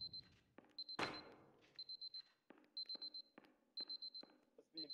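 Alarm clock in the video game Superliminal rings in repeated short bursts of electronic beeping, with a loud impact sound near the start and some faint thuds between bursts.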